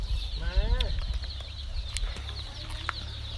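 A native backyard chicken gives a brief run of clucking calls early on, followed by quieter scattered clucks and light rustling against steady background hum.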